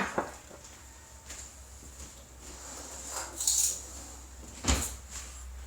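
A metal spoon clinks a few times against a cup or jar while dandelion tea is being made for mead, sharp isolated taps separated by quiet pauses near the microphone.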